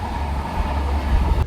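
Barauni Bandra Special passenger train rolling past, a steady loud low rumble of wheels and carriages throughout with no speech, cutting off abruptly at the end.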